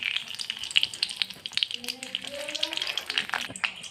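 Bay leaves and whole garam masala sizzling in hot oil in a pan, a steady, close crackle with fine popping bursts, while a voice speaks over it partway through.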